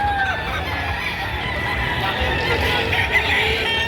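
Chickens and roosters at a Batangas poultry market make a noisy mix of clucks and calls. A raspy crow rises out of the steady market din, with low rumbling background noise throughout.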